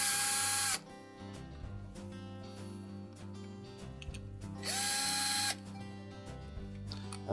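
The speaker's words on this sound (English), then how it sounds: "Then we're going to remove two 1/4 inch hex head screws." Two quarter-inch hex head screws are driven out of a Whirlpool refrigerator's evaporator fan motor bracket with a power driver, giving two loud whirring bursts over a steady background hum.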